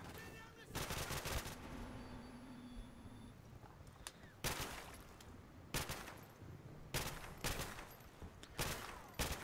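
Gunfire in Call of Duty: Modern Warfare Remastered, with repeated loud bursts of automatic fire separated by short pauses and a quieter game background in between. Faint voices are mixed in underneath.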